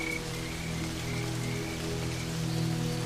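Sudden heavy rain falls on the Serengeti plains, a steady loud hiss over a low continuous hum, with no voices.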